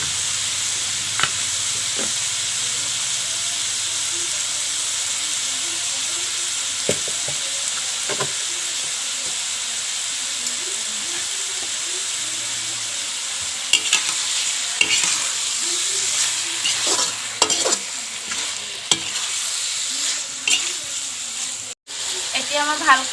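Chicken curry sizzles steadily in a frying pan while a utensil stirs and scrapes through it, producing intermittent clinks and scrapes over the continuous frying hiss, with occasional speech in the background.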